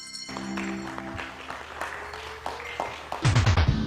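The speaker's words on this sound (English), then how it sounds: "They're shouting and jumping and cheering and clapping because they've just enjoyed seeing their little ones on the stage." Parents and family clapping and cheering after children perform on stage at a school show, a crowd's applause under a musical fanfare, with shouts rising and a louder burst of cheering and claps near the end.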